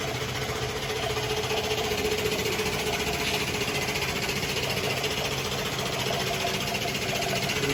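The 1115 engine of a new vehicle with a four-leaf gearbox runs nearby, giving a loud, steady, even drone with a fast rattling knock that holds unchanged throughout.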